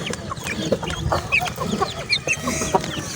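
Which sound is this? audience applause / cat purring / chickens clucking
chickens clucking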